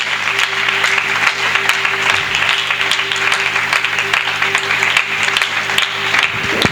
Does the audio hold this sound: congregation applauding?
yes